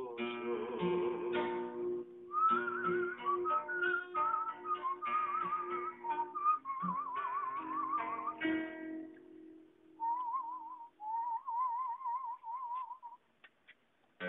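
Melodic whistling of a slow tango tune, clear and close, carried phrase after phrase with brief pauses and no accompaniment.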